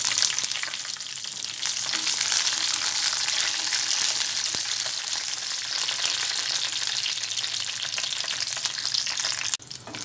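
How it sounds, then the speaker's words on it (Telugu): Green chilies fry in hot oil in a pan, a steady loud sizzle and crackle holding throughout with faint stirring, then a brief dip near the end. "ఆయిల్ వేడైన తర్వాత పచ్చిమిరపకాయలు వేయించుకోవాలి."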